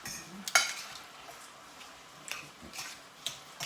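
Vegetable salad being tossed in a bowl gives soft rustling with a few sharp utensil clicks and taps against the bowl, quiet and intermittent, with no voices.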